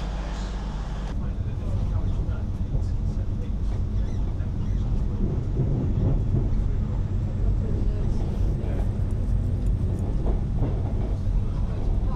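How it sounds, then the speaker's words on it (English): Passenger train in motion after boarding, a steady loud low rumble and rattle of the carriage running continuously, with faint voices mixed in. "So, time to board the train."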